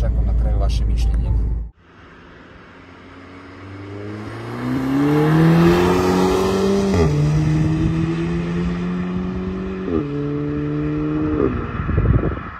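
A sports car engine accelerates hard, its tone climbing steadily and dropping briefly at two gear shifts before rising again, loud and close after a short burst of low rumble at the start.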